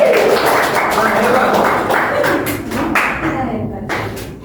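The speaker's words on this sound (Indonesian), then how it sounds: "Tepuk tangan untuk kita semua." A small class of students claps together in a classroom, a loud, close burst of uneven hand claps mixed with voices and chatter, thinning out and fading toward the end.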